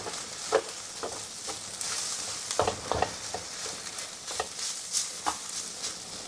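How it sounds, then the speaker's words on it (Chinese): Cured-meat fried rice being stir-fried over medium heat, a spatula scraping and prodding clumps of rice apart in the pan, with steady sizzling broken by irregular sharp clacks of utensil on metal. "一路炒，一路篤開啲飯。"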